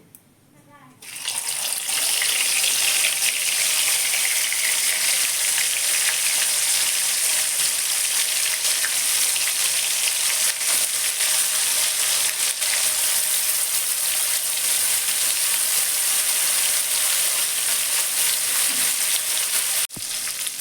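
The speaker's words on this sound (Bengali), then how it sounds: "এবার ফুলকপিটা ভেজে নিচ্ছি" Cauliflower frying in oil in a pan: after a quiet first second, a loud, steady hiss of sizzling oil runs unbroken to the end.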